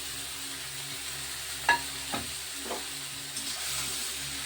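Cut okra sizzles steadily in hot oil inside a pan, with a few sharp scrapes of stirring breaking through the constant frying hiss at a close, moderate level.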